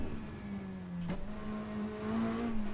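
A car's engine drones steadily up close as it is driven fast into a left-hand corner, its pitch climbing slightly under continuous road and wind noise.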